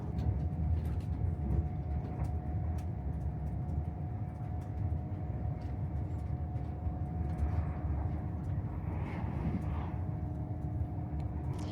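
A TransPennine Express train rides along the line past the site of the future White Rose station, heard from inside as a faint, steady low rumble with light rattles.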